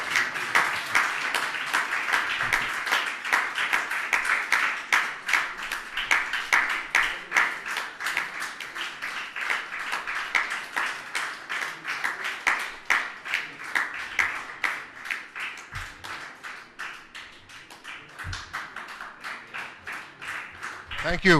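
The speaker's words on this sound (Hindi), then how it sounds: "तालियां।" Audience applause at a Jain religious gathering, sustained rhythmic clapping from a crowd that rises and falls in waves for a long stretch, fairly loud, with voices talking underneath at times.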